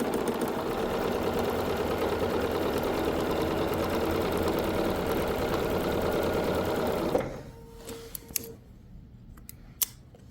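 A sewing machine chain-pieces quilt fabric in a steady, continuous whir for about seven seconds, then stops, leaving a brief low hum and a few small clicks and taps.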